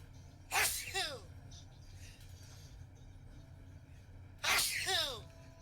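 Two loud, sharp sneezes close to the microphone, a few seconds apart, each a breathy burst with a falling vocal tail over a low steady background hum.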